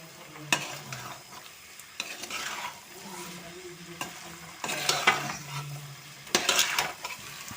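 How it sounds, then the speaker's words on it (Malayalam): Pork roast being stirred in a hot pan, a spoon scraping and clinking against the metal in irregular strokes over a soft, low sizzle, close and moderately quiet, with no talk. "ഇനി നല്ല പോലെ ഇളക്കി കൊടുക്കാം കേട്ടോ."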